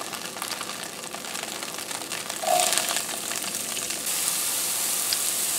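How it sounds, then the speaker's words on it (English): Onions frying in hot oil in a pot for beef stew, a close, steady sizzle that swells louder midway and stays bright to the end, with no talking. "now we can throw our onions in"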